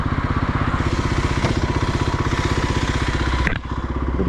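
Motorcycle engine thudding at a steady, even rhythm while riding through hot desert country, loud and close, with a brief sharp knock near the end before the pulsing resumes.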